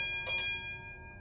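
One of several bells on an LGB Weimar model trolley fitted with a Zimo sound decoder: a quick double strike, then a clear tone that fades out.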